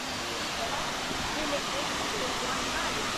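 Ulan-Ulan Falls in Sampao, Almeria, Biliran roars as a steady, loud, broadband wash of falling water that holds constant throughout, with no break or change in level.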